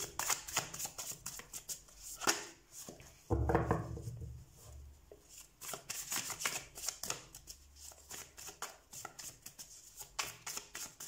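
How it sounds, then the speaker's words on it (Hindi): A tarot deck is shuffled by hand up close, with repeated papery riffles and slaps in bursts and brief pauses between them, and no speech. "सबसे पहले हम कार्ड शफल कर लेते हैं आपके लिए।"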